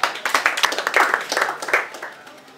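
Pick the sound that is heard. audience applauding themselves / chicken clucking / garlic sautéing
audience applauding themselves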